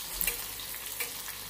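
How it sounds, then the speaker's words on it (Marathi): Crushed garlic sizzling in hot oil in a pan with asafoetida while cooking a taro leaf curry, a steady close frying hiss with small stirring bursts throughout. "लसूण छान तळून झालेला आहे।"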